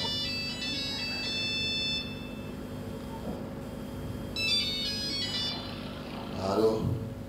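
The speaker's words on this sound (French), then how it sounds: "Téléphone va sonner." A telephone rings in a French musical comedy stage scene: bursts of electronic ringing tones in the first two seconds and again midway, fairly faint over a hum, with a brief voice near the end.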